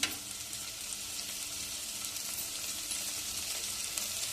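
Whole spices and ground cinnamon, cloves and cardamom fry in a pan with a faint, even, continuous sizzle and no voices.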